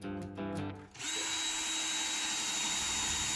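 Power drill runs steadily for a few seconds, driving a screw into a cedar post bathroom cabinet during assembly, a sustained close whine after a brief lower-pitched start.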